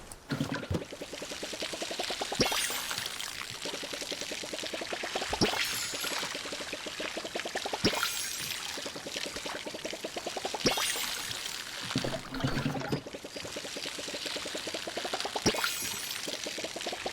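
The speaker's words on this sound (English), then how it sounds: "Now I need to water all the crops." A watering can pours over crops in the Palia farming game in a repeating cycle: each sweep gives a bright splashing pour, sharp onsets about every two to three seconds, steady and close with no voices.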